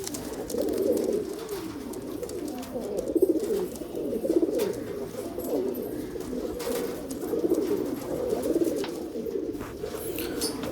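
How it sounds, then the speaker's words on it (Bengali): Many pigeons coo at a home loft where birds are kept for sale, a continuous chorus of low, throaty coos that overlap in waves, fairly near and steady throughout. "তো প্রচুর পায়রা আছে"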